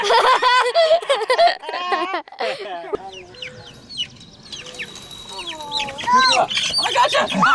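Chickens squawk and cluck loudly and in bursts as they are chased and caught in a dirty coop run, with excited voices shouting and laughing over them throughout.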